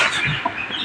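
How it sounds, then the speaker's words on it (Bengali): Native chicks, a group of ten small deshi chickens, cheep in short bright bursts over a brief stretch, with soft clucking from a nearby hen underneath. "10টা দেশি মুরগির বাচ্চা, এগুলা ছোট।"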